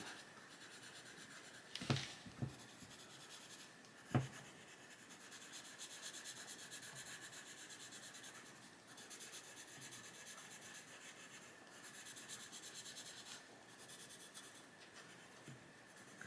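A colored pencil shading layers on paper in a Johanna Basford coloring book, giving quiet, continuous scratchy rubbing strokes with a few sharper taps, close and faint.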